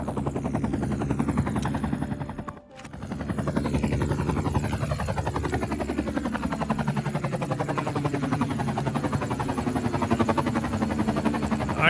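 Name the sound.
firefighting helicopter in video game Cities: Skylines 2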